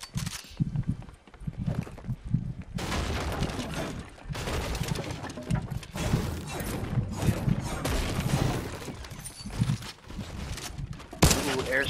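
Fortnite airstrike explosions and rapid gunfire in bursts, loud and chaotic with sharp blasts breaking through dense rattling noise across the span.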